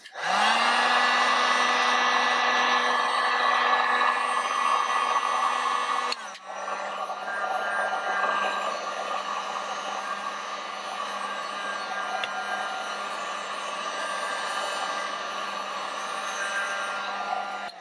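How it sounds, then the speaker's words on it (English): A heat gun blowing hot air to warm a flexible, color-changing 3D-printed Jabba figure, a loud steady fan whoosh and whine that steps down to a lower setting partway through and keeps running. "let's go ahead and get out the old heat gun and see what happens"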